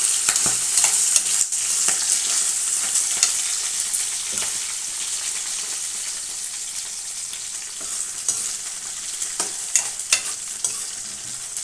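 Vegetables fry in a pan for tomato pachadi, a loud continuous bright sizzle with occasional stirring clicks and scrapes, no talking.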